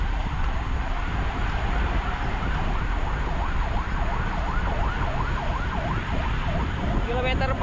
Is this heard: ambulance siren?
yes